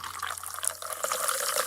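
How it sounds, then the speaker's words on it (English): Tonic water is poured into a drink with a steady, close fizzing splash, a bright bubbly hiss running continuously through the short pour. "Then, pour 3 ounces of tonic,"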